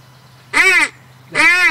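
A wildfowling duck call blown in two short, loud, slightly raspy blasts separated by a brief pause, with no talking.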